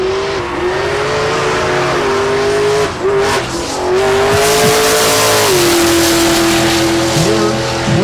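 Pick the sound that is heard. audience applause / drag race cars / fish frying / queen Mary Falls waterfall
drag race cars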